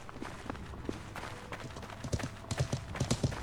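Horse hooves clip-clopping in the medieval game Life is Feudal, uneven hoofbeats that grow louder and heavier toward the end, as if the horse is approaching, over faint background noise.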